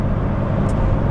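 A Toyota Tundra pickup truck engine running in 4-wheel drive, a loud steady low drone heard close, brief and unbroken, with no talk.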